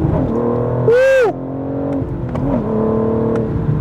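A new BMW M4 with a manual gearbox drones loudly from close by, its engine note rising in a sharp rev swell before settling back into a steady, throaty pull under acceleration.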